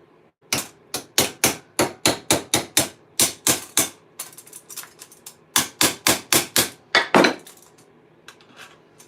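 A small hammer taps on metal half-gauntlet armour in quick, sharp bursts of strikes, pausing briefly between runs, close and fairly loud with no talking.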